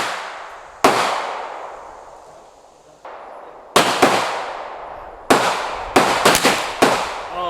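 A custom Ruger 10/22 rifle with Volquartsen parts fires at a target, eight sharp close shots with ringing decays, starting as spaced single shots and ending in a quicker run of four.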